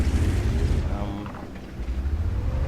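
Heavy tank cannon fire from a Tortoise in World of Tanks, a deep booming report with rumbling low end that fades and then swells again near the end, with game engine noise steady underneath.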